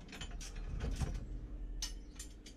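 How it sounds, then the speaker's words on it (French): A 27 mm socket wrench giving a last tightening turn on a vehicle part, producing a few close, soft ratcheting clicks and metallic clinks over a low mechanical rumble, with no talk. "donner un dernier petit coup de serrage"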